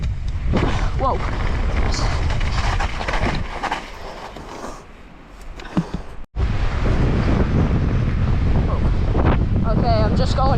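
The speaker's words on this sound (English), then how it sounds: "it is really windy" Strong wind buffets the microphone on a mountain bike trail with a jump line, a loud, roaring rumble that runs nearly throughout, with a brief lull and cut midway and faint voices under it.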